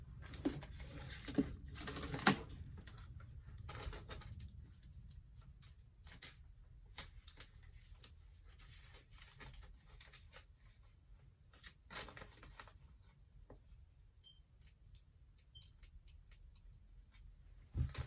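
Scissors cutting fabric for a mermaid gown pattern, quiet close snipping and crisp rustling clicks, busier near the start and then sparser, with faint background hum.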